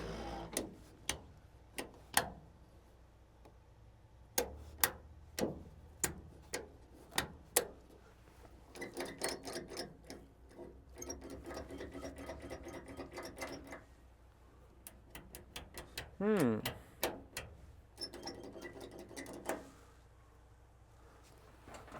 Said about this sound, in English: Oh, look, wipers.